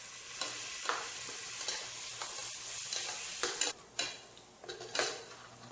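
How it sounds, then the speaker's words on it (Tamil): Shallots sautéing in a pan for a country chicken curry, a steady soft sizzle broken by repeated stirring scrapes and light clinks of a utensil against the pan, close and fairly quiet, with no talking. "சின்ன வெங்காயம் நல்லா வதங்கட்டும்"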